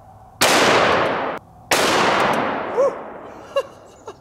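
Two booming shots from a .500 S&W Magnum revolver firing 500-grain Underwood hard cast rounds outdoors, each a loud sharp blast with a long rolling echo, the second followed by faint distant clinks.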